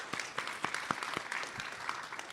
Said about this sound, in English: can we get a round of applause again for our panelists